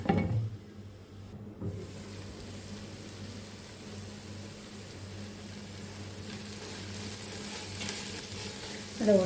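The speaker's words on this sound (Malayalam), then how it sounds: "വലിയ സൈസുള്ള ഉള്ളി നമുക്ക് ഇതേപോലെ കട്ട് ചെയ്ത് വെച്ചിട്ട് ഒന്ന് വാട്ടിയെടുക്കാം" Large sliced onions sauté with salt in a pan, giving a continuous soft sizzle with occasional stirring scrapes, close and fairly quiet throughout.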